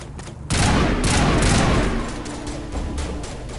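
Heavy gunfire erupts during combat in the video game Mass Effect. Loud rapid bursts of shots run together into a dense barrage that eases slightly toward the end.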